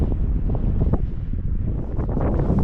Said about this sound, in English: it's really quite windy, as you can see